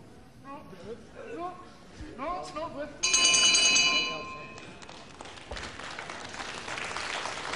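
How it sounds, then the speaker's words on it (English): A large crowd applauds at a wrestling match in the Assembly Hall, Walthamstow, with dense clapping that swells in the second half and carries on steadily under a commentator's voice. "there's the deserved applause from this big crowd here at the Assembly Hall"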